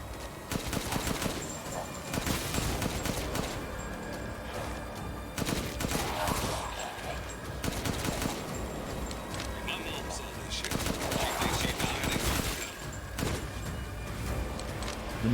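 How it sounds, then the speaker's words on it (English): Gunfire from the video game Resident Evil Village, fired from inside a hallway: repeated bursts of shots with a game soundtrack underneath, fairly loud and continuous throughout. "so I can't really do anything but shoot"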